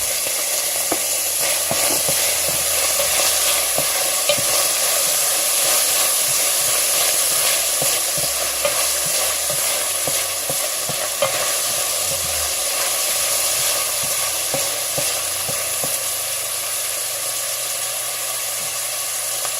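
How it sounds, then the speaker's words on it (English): Jalapeño and habanero peppers sizzle loudly in oil for a Ghanaian braised oil rice, a dense, continuous hiss with faint stirring scrapes underneath, unbroken from start to finish. "At the same time, I'm going to add my jalapenos and my habanero peppers."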